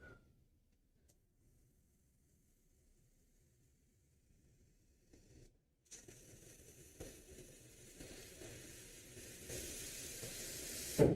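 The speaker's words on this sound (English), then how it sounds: "can you hear the airbrush now?" Airbrush spraying paint during a live painting session, quiet at first and then a soft, steady airy hiss that starts partway through and grows slightly louder toward the end.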